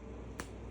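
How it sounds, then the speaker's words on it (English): A single finger snap, sharp and close, standing out once against a steady low background hum. "Snapping. That is correct."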